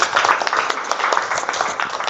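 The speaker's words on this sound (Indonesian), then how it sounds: "beri tepuk tangan untuk." Clapping from a classroom audience of students, a steady patter of many hands close by with scattered individual claps standing out over the short stretch.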